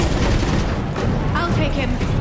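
Dense gunfire and blasts from a BioWare video game roar continuously, loud and chaotic, with voices speaking over the battle.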